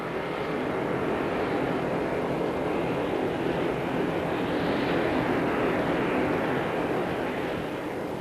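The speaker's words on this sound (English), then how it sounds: "The physical link between the European partners is the Super Guppy, a very remarkable transporter." The Airbus Super Guppy, a large propeller-driven cargo transport aircraft, produces a steady, broad engine roar that swells slightly and then eases, heard alone at a moderate distance.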